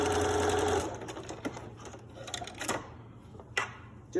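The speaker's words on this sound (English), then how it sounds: "We zigzag along the pipe cleaner and the very edge of the fabric." A sewing machine zigzag-stitches over a pipe cleaner along the edge of fabric while making a face mask: a steady whirring run at first, then short stop-start bursts of stitching, fairly close and alone.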